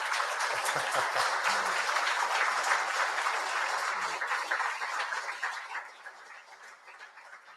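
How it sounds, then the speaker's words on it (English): Audience applause at a memorial service for the Edmund Fitzgerald, a dense, steady clapping that fills the hall and then thins and fades toward the end, with a few brief voices underneath. "Let's give Sarah a round of applause."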